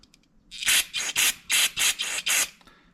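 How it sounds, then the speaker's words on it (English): A rapid series of six or seven short, hissing sprays of carburetor cleaner fired in quick bursts close up into a Yamaha TTR-125 carburetor, with brief gaps between each spritz. "give this some sprays with the carb cleaner"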